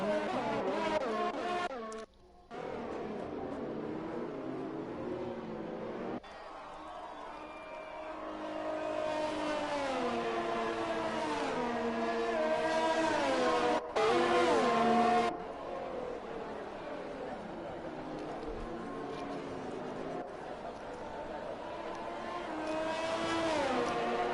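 Formula race cars accelerating at a restart in a Belgian Grand Prix racing video game, engines revving in rising and shifting tones, loud and continuous across the whole stretch with brief drops between gear changes.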